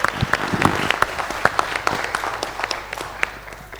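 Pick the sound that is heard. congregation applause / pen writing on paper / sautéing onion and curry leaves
congregation applause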